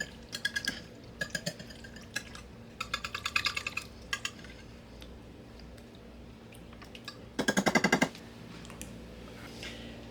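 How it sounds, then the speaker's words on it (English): Homemade ricotta cheese whisked in a bowl, quick bursts of rapid metallic whisk strokes clicking against the bowl, several short clusters followed by a pause and one louder final flurry, close and crisp. "Now we're going to whisk it just to get it all nice and creamy."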